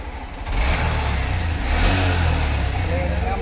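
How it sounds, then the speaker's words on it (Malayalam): A Honda SP125 motorcycle engine revs up hard toward 8000 RPM, a sustained loud, close mechanical roar that holds steady with slight swells, with a voice partly audible beneath it. "അതിനുശേഷം നമ്മൾ എൻജിൻ RPM കൂട്ടണം. അതായത് സ്നാപ്പ് 3 അതായത് 3 മുതൽ 10 തവണ വരെ എൻജിൻ RPM 8000 RPMലേക്ക് എത്തിക്കുക."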